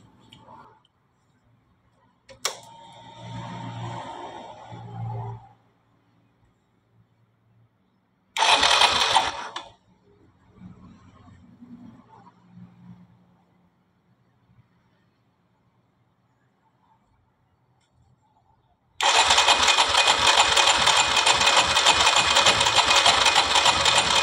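A Honda Super Cub fuel-injected motorcycle engine cranks briefly, stops, then fires up and runs steadily at a loud, buzzing idle during repair troubleshooting; quiet rustling and handling noises come before.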